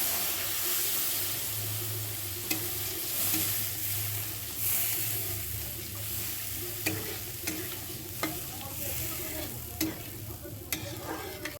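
Chopped tomatoes and a splash of water go into a hot, sizzling pan, giving a steady close frying hiss broken by several sharp utensil clicks and scrapes as the mixture is stirred.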